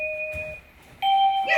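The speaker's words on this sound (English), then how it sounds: "I'll be able to ring the doorbell" Electronic doorbell chimes twice, two clear tonal rings separated by a short pause, close and loud in an indoor home setting, with no voices.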